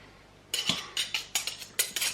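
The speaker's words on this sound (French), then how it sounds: "C'est pas bien, faut pas jouer avec les couteaux." Old, blunt canteen knives clink against each other and against dishes in a handful of sharp, bright metallic taps, close and fairly quiet after a short silent start.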